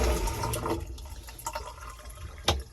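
Water runs and gurgles in a marine toilet on a Joyner 325CC World Cat boat as it adds water and flushes. A close, steady wash of liquid is heard, with a few sharp clicks or drips near the end.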